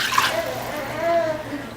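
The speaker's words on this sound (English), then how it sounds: "we are going to add our 1 cup of water" Water poured from a measuring cup into a pot of sautéed vegetables for chicken noodle soup, a steady close splashing pour lasting a couple of seconds with no talk.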